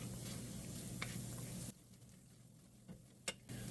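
Anchovies and potato sauté in a pan, giving a faint, steady sizzle that drops away abruptly partway through, leaving a few soft ticks and stirring sounds.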